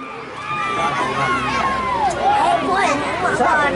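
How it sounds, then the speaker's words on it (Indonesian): Loud, sustained cheering from a packed crowd at a football quarter-final, Porlis versus Pomsa, with shouts rising and falling in a continuous roar under a commentator's voice. "Sorak-sorakan yang begitu bergemuruh pada sore hari ini."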